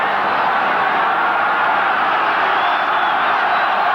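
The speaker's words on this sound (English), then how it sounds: "Listen to that crowd" Dense, steady roar of a large crowd at a 1980 Auckland versus Waikato rugby match, a continuous broadband wash of voices with occasional whoops rising out of it, loud and sustained throughout.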